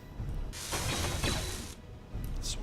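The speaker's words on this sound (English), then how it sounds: "Let's actually just weld one of these sections and see how it looks." Welding a structure section in Space Engineers: a loud hissing, crackling mechanical burst of about a second, followed by quieter clicks and a brief whir.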